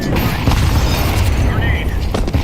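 Grenade blast in the Counter-Strike 2 video game during a competitive match: a deep low boom rolls through dense game noise, with a few sharp transients and a voice talking over it.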